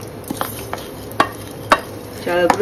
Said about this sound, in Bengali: আমি চালটা এখন 5 মিনিটের মতো হালকা ভেজে রাখবো।